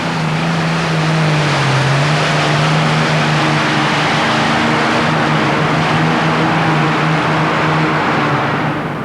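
A modified pulling tractor powered by Allison aircraft engines roars on the track at the Houston Astrodome, a loud, steady droning engine note that holds throughout with little change.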